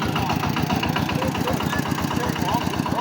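A tractor engine chugs in a steady, rapid low rhythm at fairly close range, heard during villagers' repair of a flood-damaged road with sandbags, with voices talking over it.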